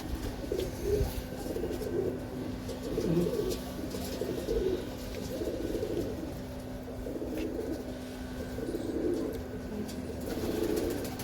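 Pigeons held in the hands coo in soft, throaty, repeated murmurs close by, a steady low hum running underneath.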